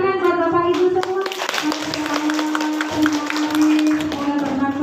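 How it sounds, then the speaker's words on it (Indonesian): Audience applause at an Indonesian parenting talk, a dense patter of many hands clapping close by, with voices and children's sounds mixed in underneath. "Tepuk tangan buat Bapak Ibu semua."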